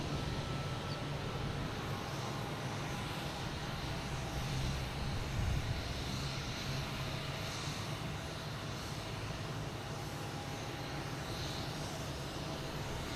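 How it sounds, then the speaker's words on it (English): A Spirit Airlines plane taxiing at Boston Logan Airport makes a steady jet engine roar and whine, loud and unbroken throughout with no talking. "Still watching that Spirit flight there. It's trying to get its way to the taxiway."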